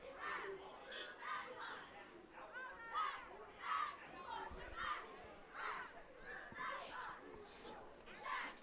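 Crowd at a high school football game at Fowler, Middletown versus Warwick, a steady distant roar of chatter and cheering with shouts rising and falling throughout.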